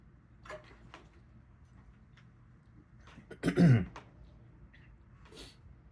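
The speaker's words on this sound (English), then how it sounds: "I need to clear my throat for some reason" A single brief throat clear, close and moderately loud, stands out from a quiet room with faint background ticks.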